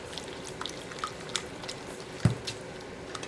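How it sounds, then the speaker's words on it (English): Coconut milk whisked by hand in a bowl for a coconut cashew cake, soft wet squishing and light clinking strokes, close and quiet, with no voices. "Immediately add the coconut milk and whisk it to combine it."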